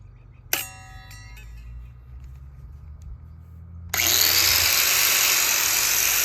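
A power tool cuts wooden framing pieces in half while building a rabbit pen, a loud continuous broadband whine starting abruptly partway through after a brief clang and quieter handling noise.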